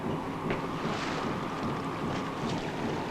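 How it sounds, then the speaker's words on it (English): A strong north wind blows steadily ahead of an approaching storm at sea, a dense, constant rushing roar with gusty swells and no voices. "the north wind is blowing stronger"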